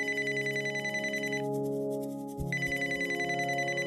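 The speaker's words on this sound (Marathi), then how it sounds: "अगं फोन कोणाचा आहे बघ तरी." A landline telephone rings in a home, a steady repeating electronic ring with a short pause midway, heard alone at moderate volume.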